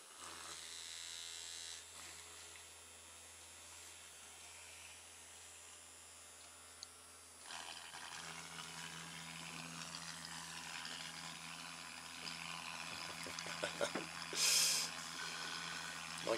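A small duck-shaped brush bristle bot buzzes steadily as it vibrates across a surface, a quiet electric whirring hum that grows louder and busier partway through, with faint rattling near the end.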